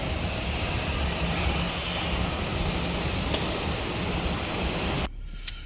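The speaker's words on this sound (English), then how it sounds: "But look, here goes planes pulling up." Airliner engines hum steadily as a United plane taxis at a South Florida airport, a continuous loud roar heard from nearby that cuts off abruptly near the end.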